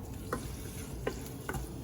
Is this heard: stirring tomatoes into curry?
yes